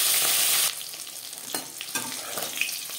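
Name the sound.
tilapia fish pieces frying in oil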